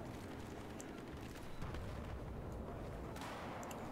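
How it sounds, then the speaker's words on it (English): Mortar fire in Battlefield 4, a dense rumbling barrage of booms and blasts with sharp cracks near the end, loud and continuous for about four seconds, no speech. "They have quite a bit of mortars"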